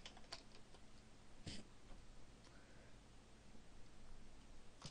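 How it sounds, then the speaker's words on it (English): Keys tapped on a computer keyboard while entering a name, a few quiet, scattered clicks close by over a faint hiss, with no talking. "You can type in your name."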